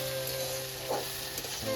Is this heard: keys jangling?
no